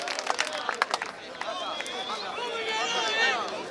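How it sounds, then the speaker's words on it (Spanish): Crowd clapping and cheering at a freestyle rap battle, with sharp scattered claps at first that blur into a sustained roar of voices and whistles from a lively audience. "¡Un solo aplauso!"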